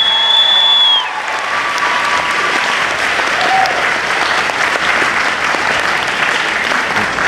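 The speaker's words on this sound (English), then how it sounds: "Give a round of applause for Mythos Creations," Audience at a cosplay convention breaks into sustained, dense applause that runs steady from start to finish, with a short whistle-like tone near the opening.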